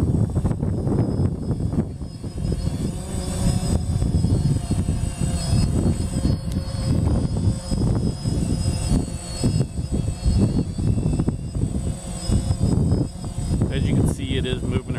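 A DJI Phantom drone hovers on a windy day with a steady, continuous high-pitched propeller whine and buzz, layered over rumbling wind noise throughout.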